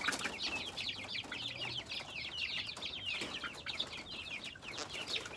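Several chickens cluck and chatter steadily at a rural farm, a busy overlapping chorus of short calls heard at moderate distance with faint low background noise and no talking.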